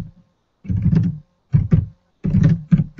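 Fingers type on a computer keyboard in three quick bursts of close, dense key clatter separated by brief silences.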